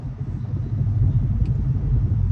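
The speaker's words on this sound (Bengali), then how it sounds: "ঢাকার দিকে গাড়ির চাপটা একটু বেশি" Road traffic near Boat Bazar in Dhaka makes a steady low rumble of passing cars and engines, continuous and moderately loud with no one speaking.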